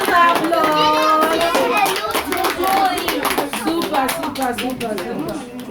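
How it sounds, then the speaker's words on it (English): Small children clap in a round of applause for themselves, loose irregular claps under prominent chattering and shouting kid voices, close and lively throughout. "Can we give ourselves a round of applause?"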